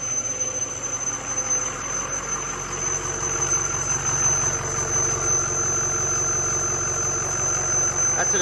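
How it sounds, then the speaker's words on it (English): A Ford 6.0 diesel engine runs with a constant thin high-pitched squeal from an exhaust leak riding over the idle rumble, steady and close for the whole stretch. "Hear that high-pitched squeal?"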